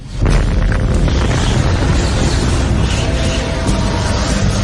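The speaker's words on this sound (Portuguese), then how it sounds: "Essa explosão vai gerar energia suficiente para formar os primeiros átomos de hélio e hidrogênio" Dramatised Big Bang explosion: a sustained, loud, roaring rumble that stays dense and steady for several seconds, with no speech over it.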